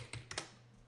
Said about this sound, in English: you can hit return on the keyboard